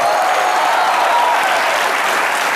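A studio audience on a comedy talk show breaks into loud, dense, sustained applause, an unbroken wash of clapping at constant volume from start to finish.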